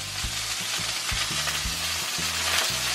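Eggs for a three-egg omelette sizzle and crackle steadily in a hot pan, a close, continuous frying hiss with rhythmic stirring or scraping bumps and no voices.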